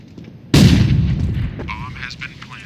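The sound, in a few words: grenade explosion in a video game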